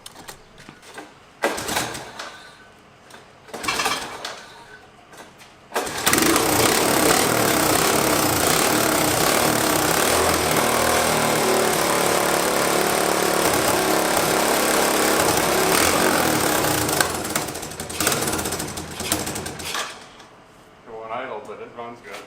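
A Honda ATC three-wheeler being revived after years of sitting, its engine popping and sputtering, then running loud and steady for about twelve seconds before dropping back to rough, uneven firing.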